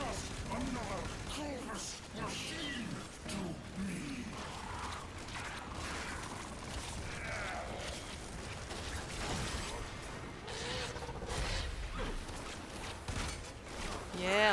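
Gunfire at a boss in a video game rattles on steadily in a dense, mechanical stream of shots, mixed with clanking effects and running under ongoing talk.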